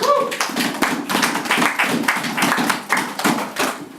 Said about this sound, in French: Applaudissons la parole de Dieu.